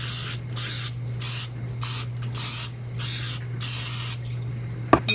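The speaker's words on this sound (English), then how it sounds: "you take a 9x13 baking pan and you coat it with cooking spray." Cooking spray misted onto a 9x13 baking pan in repeated short hissing bursts, about eight spurts in an even rhythm with brief pauses between them, close and fairly loud, ending with a couple of light clicks.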